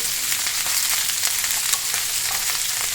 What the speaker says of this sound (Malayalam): ഇത് നമുക്കിതൊന്ന് ചെറുതായി വഴറ്റണം